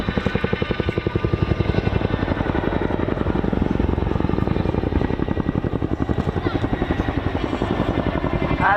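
Chinook helicopter departing in an air show display at RAF Cosford 2023, climbing in a corkscrew; its twin rotors beat a loud, rapid, steady thumping pulse over a constant engine roar.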